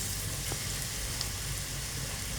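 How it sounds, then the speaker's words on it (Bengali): Small spoonfuls of pakora batter frying in hot oil in a pan, a steady close bed of sizzle and crackle with faint bubbling, continuous for a few seconds with no talk. "এরকমভাবে পাকোড়ার মতো গরম তেলে ছেড়ে দেবো"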